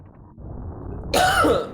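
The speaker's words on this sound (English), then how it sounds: "Cough." A single close, harsh cough erupts after a moment of quiet low murmuring.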